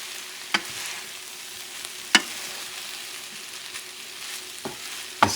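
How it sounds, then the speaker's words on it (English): Sofrito sizzles softly in a pan while being stirred, with a quiet continuous hiss broken by a few sharp utensil scrapes and taps spaced a second or two apart. "You're going to see the nice sofrito mixing."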